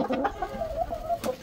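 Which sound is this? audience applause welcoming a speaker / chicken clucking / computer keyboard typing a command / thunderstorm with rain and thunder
chicken clucking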